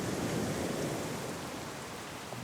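Torrential tropical rain pours down on an island camp, a continuous heavy wash of noise with a low rumbling undertone, steady and enveloping from start to finish with no talking.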